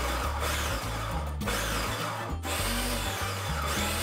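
A food processor pulses raw cauliflower into rice-sized bits, its motor whirring in a series of short bursts with brief stops between them. The sound is close, steady and loud, with no voices.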